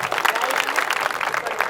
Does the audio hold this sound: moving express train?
no